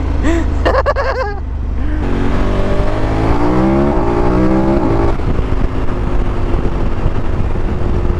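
A 2021/22 KTM 1290 Super Adventure S motorcycle with a remapped ECU revs hard on a dyno, a loud engine roar climbing in pitch through the gears and then holding at a sustained high drone.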